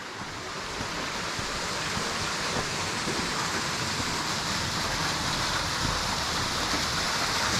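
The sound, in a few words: strong flow of stream water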